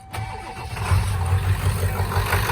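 A Ford car engine cranks and catches right after power steering fluid has been topped up, settling into a close, steady low rumble that grows a little louder and holds.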